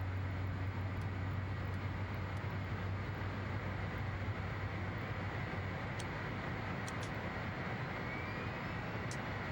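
Learjet 35A jet engines in Microsoft Flight Simulator 2024, a steady, fairly quiet roar with a whine above it, droning evenly throughout with no voices.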